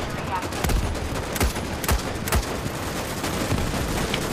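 Rifle shots from a bullpup sniper rifle in the video game Starship Troopers Extermination, fired at bugs: a series of sharp cracks spaced about half a second apart, over a busy, noisy battle background.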